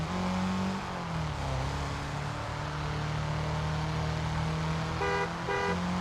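Game car engines and horns from TrackMania 2: Valley, with a steady loud engine drone that shifts pitch as it revs, plus short repeated horn toots near the end, no talk.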